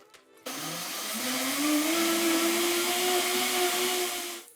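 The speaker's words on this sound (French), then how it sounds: "on va venir le mixer dans le mixeur blender" A kitchen blender whirs up a sherry vinegar sauce, starting abruptly after a short pause and holding a loud, steady motor whine whose pitch climbs as the mixture smooths out, then cutting off at the end.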